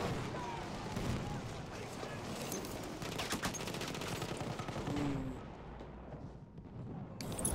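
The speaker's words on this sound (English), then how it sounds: "Machine gun, hostile" Rapid machine gun fire rattles in continuous bursts during a Battlefield 1 competitive esports match, layered with distant explosions and dense battlefield noise, then thins out toward the end.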